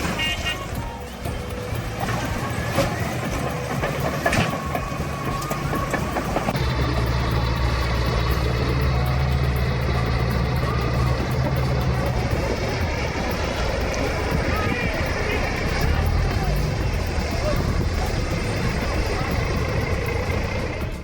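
Heavy excavator diesel engine runs continuously, a loud steady rumble with a deeper low throb in the middle stretch, joined by mechanical clanking and hydraulic strain, no one speaking.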